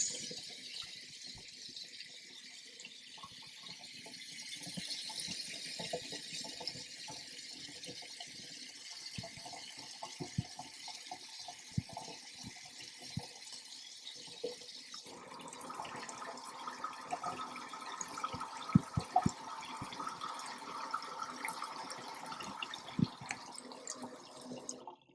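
Water gushes at full flow from a farmhouse sink faucet, a steady rushing spray that changes character midway, shifting to a brighter, splashier stream, with faint knocks and drips throughout.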